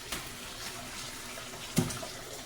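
Boiled shrimp and scallops from a crab boil poured off into a small colander: a quiet watery splash and trickle, with a couple of brief knocks.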